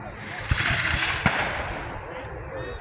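A musket volley at a Civil War battle reenactment at Old Bedford Village, two sharp cracking reports in quick succession within a thick rush of outdoor noise and crowd sound.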